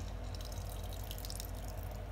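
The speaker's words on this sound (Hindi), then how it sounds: "कितना पानी निकल रहा है" Water runs and drips from a ball of grated radish squeezed by hand over a bowl while making mooli paratha, a close, steady trickle with small droplets splashing.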